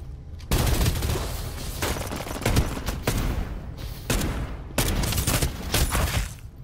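Video game gunfire rattles in several loud, close bursts of rapid shots separated by brief pauses, with no talk over it.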